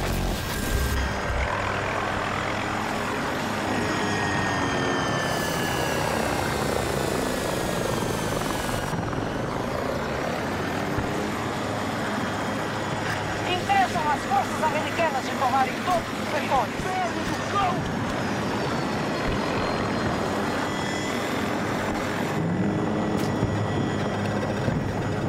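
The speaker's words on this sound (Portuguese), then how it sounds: "Helicóptero inimigo avistado!" An enemy helicopter in Battlefield 2042 thrums steadily overhead on a Conquest match, its rotor and engine noise loud and continuous, mixed with game effects and occasional radio callouts.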